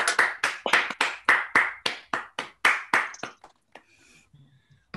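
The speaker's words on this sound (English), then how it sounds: "we give Grant a big round of applause" About a dozen sharp, fairly loud hand claps in a steady rhythm from an online audience applauding a speaker, tapering off into faint scattered sounds and near silence.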